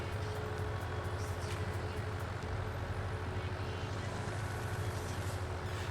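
Steady engine rumble from a tractor on a long drive up toward the cliffs in Farming Simulator 19, a continuous deep, pulsing drone that stays even in loudness, with light airy noise on top.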